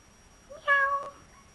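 A single short meow, close and fairly soft, stands alone against a quiet room hiss, with no talking.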